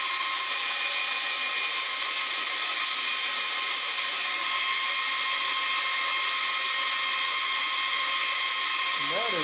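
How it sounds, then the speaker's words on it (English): Bandsaw trimming excess wood from a knife handle for a bread knife made from a rusted scythe blade, a steady high whining cut running continuously and fairly loud throughout, with no voice over it. "remove this excess wood here with a bandsaw"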